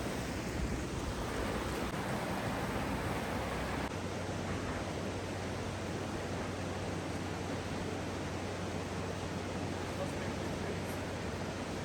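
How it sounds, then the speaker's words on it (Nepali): Marsyangdi river rushing in the mountains near Manang, a dense and steady roar of flowing water heard close and loud throughout, with wind buffeting the microphone. "मर्स्याङदी नदी यहाँ माथि कति सानो छ क्या"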